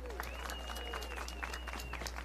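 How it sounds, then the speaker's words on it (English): An outdoor crowd at a town tree lighting claps for the city commissioners, a moderate scattered applause with a voice and a whistle-like tone over a steady low hum. "I'd like to give them all a round of applause,"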